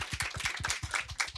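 An audience applauds an MC at a panel event, a brief burst of rapid, close clapping from a few pairs of hands, with no talk over it.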